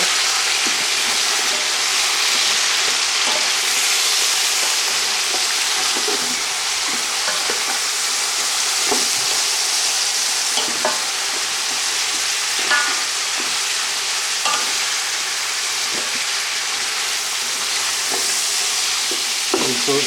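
Pieces of home-grown chicken fry in a hot pan under constant stirring, a steady close sizzle broken by repeated scraping and clinking spatula strokes for the full stretch, with no voices.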